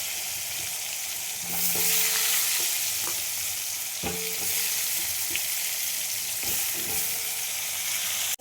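Ground spices hit hot oil for a mutton curry, a loud, broad sizzle that swells and holds while a utensil clinks and scrapes the pan several times.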